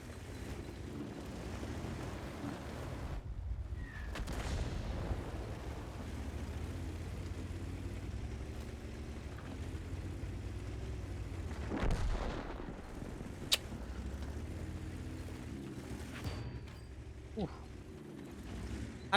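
In a T92 light tank video game match, a tank cannon fires several sharp, heavy booms that land at irregular intervals over a steady low engine rumble.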